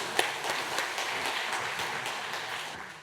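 A church congregation applauding, a steady dense patter of many hands clapping together at moderate distance for a few seconds, with no talking over it.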